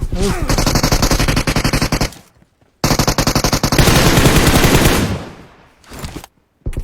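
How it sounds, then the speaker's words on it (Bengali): An AKM rifle fires in PUBG Mobile in long, loud, rapid bursts of automatic gunfire, close and dense, broken by brief silences between volleys. "ওই একেম দে ফায়ার দিল"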